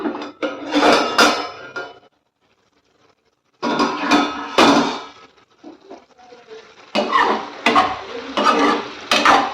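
Chicken chintamani is stirred in a cooking pot: a spoon scrapes and clatters against the metal in three bursts of repeated strokes, separated by short pauses, close and clear with no talking.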